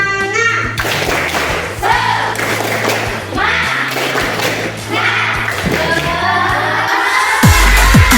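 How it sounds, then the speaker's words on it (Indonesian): Elementary schoolchildren in a classroom perform a rhythmic 'tepuk semangat' clapping chant, loud and close, with patterned claps, thumps and shouted young voices carrying on steadily throughout. "Bu Guru minta tepuk semangat sekali lagi aja ya."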